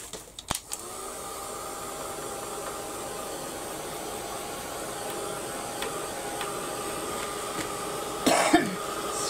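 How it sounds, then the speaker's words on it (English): A heat gun blows a steady, close hiss of air for several seconds, preceded by a sharp click as it starts, with a cough-like burst near the end. "I'm just going to give it a blast with my heat gun"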